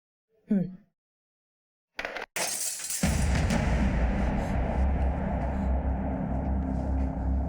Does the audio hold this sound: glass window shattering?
yes